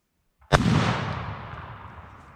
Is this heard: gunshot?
yes